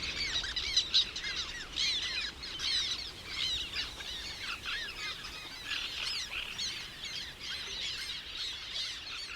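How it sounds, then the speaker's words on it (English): Black terns calling from reed beds in river marshland: a busy chorus of shrill, chirping calls overlapping steadily at moderate distance, with no voices. "The screeching of black terns chirps in my ears."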